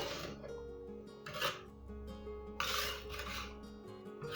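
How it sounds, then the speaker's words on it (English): Freshly baked rich cherry scones scraped and lifted off a metal baking sheet onto a cooling rack, giving a few close raspy scrapes and soft knocks in short separate strokes. "I'm just going to take them off the baking sheet and put them on the cooling rack."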